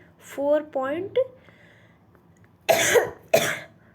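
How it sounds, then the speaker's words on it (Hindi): Someone speaks briefly, then coughs twice, sharp and close. "सॉरी गाइस खांसी हो गई है"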